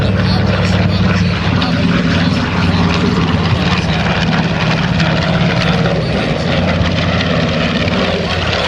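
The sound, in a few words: B-25 Mitchell bomber flying at airshow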